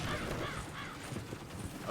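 Horses in the Western action game Red Dead Redemption 2, with hoof clip-clop and a whinny amid busy, noisy game ambience and faint voices.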